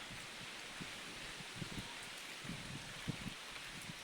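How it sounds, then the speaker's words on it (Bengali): Soft, steady rain hisses at a distance, with scattered drops pattering lightly and no one speaking. "আমরা বৃষ্টির মধ্যে"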